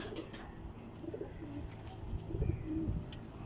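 Pigeons coo in low, soft rolling calls, several murmuring coos overlapping at close range amid faint rustles and background chirps.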